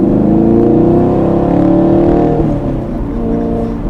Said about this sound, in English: So we'll do another quick acceleration in 2nd gear.